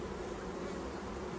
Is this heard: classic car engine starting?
no